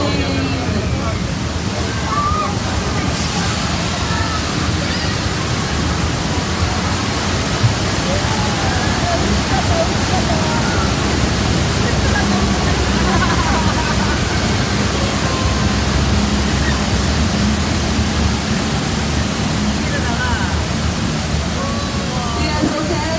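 Loud, steady rushing of a simulated water effect in a university studio, like a heavy waterfall or surf, fills the whole stretch, with a broad roar and muffled crowd noise beneath.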